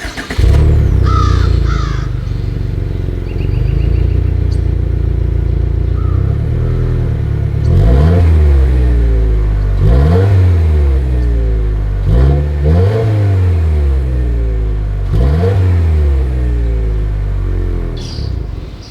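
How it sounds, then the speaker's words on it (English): A 2022 Subaru WRX exhaust roars loud and close, idling at first, then blipped through several sharp revs that rise and fall in quick succession before settling back to idle. "As always, here is that exhaust clip."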